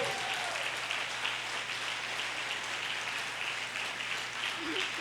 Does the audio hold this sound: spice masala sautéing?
no